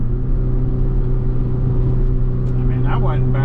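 A Mini Cooper R53 engine heard from inside the car, a steady low drone that lifts slightly toward the end during a rev-matched downshift to third, with road rumble underneath.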